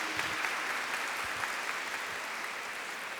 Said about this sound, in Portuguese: Uma salva de palmas aos pais presentes.